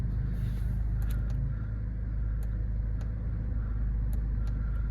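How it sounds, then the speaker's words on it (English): A grey Jaguar XF 2.2d diesel automatic idles close by with a steady low rumble, and a few light clicks and ticks sit over the engine drone. "Just start the car up for you."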